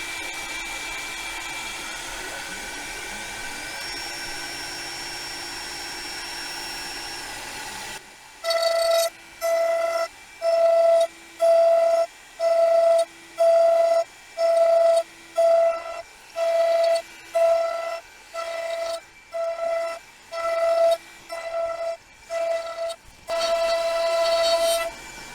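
A Sainsmart 4040 Pro CNC machine cuts a 3D commando dagger, starting with a steady whirring hum and then breaking into a loud, regular pulsing pattern of high-pitched spindle whine that cuts in and out in repeated passes.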